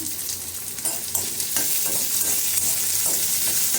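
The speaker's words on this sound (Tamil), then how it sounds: "பொடியாக கட் பண்ண வெங்காயம் போட்டுக்கலாம் கருவேப்பிலை போட்டுக்கலாம்" Finely chopped onions and curry leaves fry in hot oil with fried lentils during tempering for a yam dish, a close, bright sizzle with intermittent stirring scrapes and clatter and no talking.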